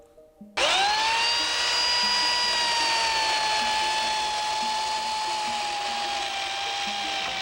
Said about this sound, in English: With chainsaw buzzing, he cuts away at a block of wood which will usually become some kind of wildlife.